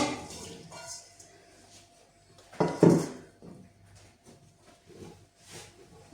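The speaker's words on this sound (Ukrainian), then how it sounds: "Беру я 3 кг смородини, висипаю у велику каструлю." About 3 kg of currants pour into a large metal pot in a brief rattling rush, surrounded by quieter kitchen clinks and handling sounds.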